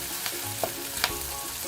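Garlic frying in a pan for a creamy pasta dish, a steady sizzle with a few soft spoon scrapes over a short stretch, no talking.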